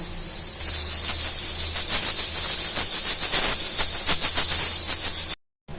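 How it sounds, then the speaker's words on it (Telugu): A loud, sustained steam hiss of a pressure cooker whistle venting while cooking okra dal, pulsing slightly as it goes, then cutting off abruptly near the end. "ఇంకొక విజిల్ వచ్చిన తర్వాత అయితే నేను తీసేసుకుంటాను"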